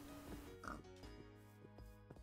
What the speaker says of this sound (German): Ich höre sie doch grunzen.